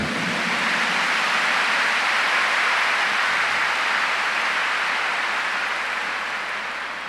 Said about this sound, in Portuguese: Give the Lord a big clap for that assurance.